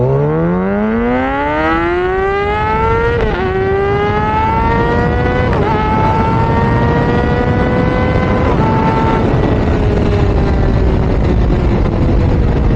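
A Kawasaki ZX6R motorcycle pulls hard from first up through the gears, its engine whine climbing in pitch then dropping at each of about four shifts, loud and close with no talking.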